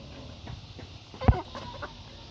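Chickens being fed cluck softly in a quiet yard, one short, sharper cluck standing out near the middle among faint scattered calls.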